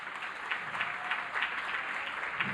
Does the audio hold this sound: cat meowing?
no